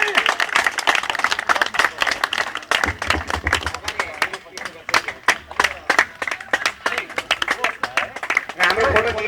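Crowd clapping at a farewell ceremony: a long burst of brisk, dense applause from many hands close by, rising and falling in waves with a few voices mixed in.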